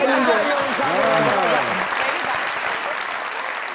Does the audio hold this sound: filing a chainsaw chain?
no